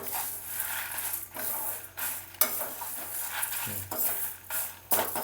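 Spices are stirred and dry-roasted in a pan for puli kaichal, producing repeated scraping strokes of a spoon against the metal over a soft sizzle, close and fairly loud with no talking.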